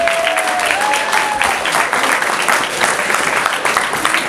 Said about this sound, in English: A round of applause for Mr. Dion Baines.